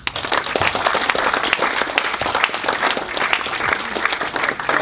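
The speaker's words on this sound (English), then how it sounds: "So round of applause again for all 6 of the demos." Audience applause after a Bitcoin No Boundaries demo session, dense and sustained clapping from a large crowd that fills the whole stretch without letup, with no voices above it.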